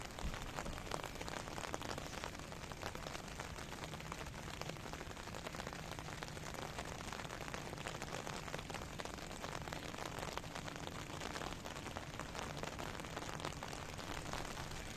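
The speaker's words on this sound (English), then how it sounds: "It's raining, especially for you." Rain falls steadily at Paphos Harbour in Cyprus, a soft, unbroken patter of drops on hard surfaces that holds an even, moderate level for the whole stretch, with no speech.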